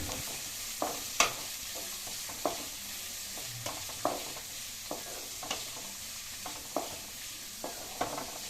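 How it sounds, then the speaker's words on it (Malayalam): Sliced onions frying in a pan for an eggplant curry keep up a soft, steady sizzle. A spoon stirs through them in regular scraping clacks about every second, with no speech. "ഇനി നമുക്ക് ഈ സവാളയെ ഇളക്കിയിട്ട് കൊടുക്കാം"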